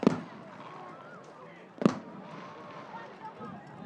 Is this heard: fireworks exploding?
yes